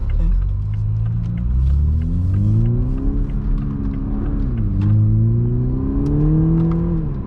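A Toyota GR Supra engine revs and accelerates through several rising sweeps, a deep throaty rumble heard nearby with light background noise.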